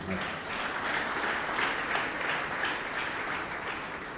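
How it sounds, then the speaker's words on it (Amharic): A church congregation claps together in sustained, even applause during a service, a dense steady patter lasting the whole stretch with no pauses. "ለእግዚአብሔር ክብር አጨብጭቡለት።"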